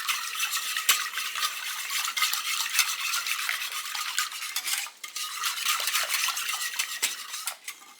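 Milk and parsley stirred into a slow cooker soup in a crockpot, giving a steady run of close utensil scraping and clinking against the pot for the whole stretch, with no talking.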